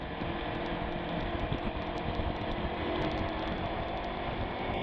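A Sinnis Terrain T380 adventure motorcycle strains uphill, its engine droning steadily at high revs with a continuous buzzing roar and no talk.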